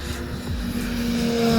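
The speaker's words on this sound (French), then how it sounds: "C'était juste l'avion d'épondage qui passait." A crop-dusting airplane's propeller engine drones steadily overhead, a low rough hum that grows slightly louder toward the end with a rising whine, over faint outdoor background noise.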